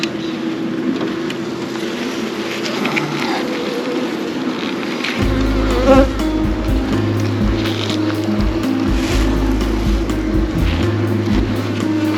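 Honey bees from a newly installed colony drone steadily during a hive inspection, with a constant close buzz that thickens into a deeper, louder hum after a few seconds and occasional frame-handling knocks.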